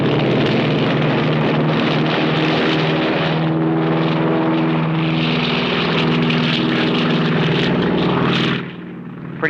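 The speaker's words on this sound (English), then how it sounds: "Pretty sloppy takeoff." A propeller airplane takes off from a runway, its loud, buzzing engine drone climbing in pitch as it powers up, then dropping away abruptly near the end.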